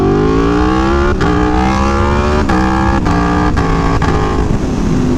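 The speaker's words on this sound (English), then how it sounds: "It sounds so incredible and exotic and like nothing else on the road" An Aprilia Tuono V4 Factory motorcycle engine revs hard and loud, pitch climbing steadily with several sharp gear-change breaks, a rich howling exhaust note throughout.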